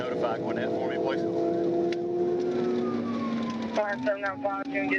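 A police car siren wails during a high-speed pursuit in traffic, its rising and falling tones sustained throughout, with a faster warbling pattern near the end, under radio-style voices.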